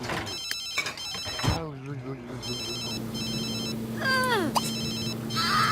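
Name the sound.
telephone ringing in The Sims 3 video game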